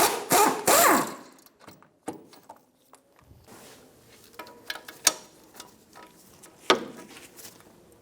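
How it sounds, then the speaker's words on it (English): A 22mm socket wrench loosens the front brake caliper bolts on a 2003-2007 Infiniti G35, a loud metallic burst followed by scattered ratchet clicks and taps, close by in a quiet garage. "Using a 22mm socket, we're going to remove the 2 caliper bolts."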